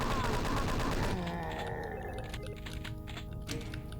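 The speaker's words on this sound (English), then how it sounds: "We take out all the chain gunners in this room." Gunfire cuts down chaingunners in Doom 2: a loud, dense burst of shots and blasts fills the first second, then the firing thins out and tapers off into scattered, quieter game sounds.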